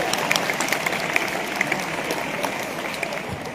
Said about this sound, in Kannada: ಅದಕ್ಕೂ ಚಪ್ಪಾಳೆ ಹೊಡಿಬೇಕಾ?